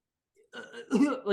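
A voice imitates a coughing fit with a few rough, guttural hacking bursts, close and fairly loud.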